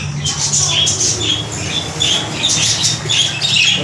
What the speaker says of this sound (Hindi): तोते बहुत चिल्ला रहे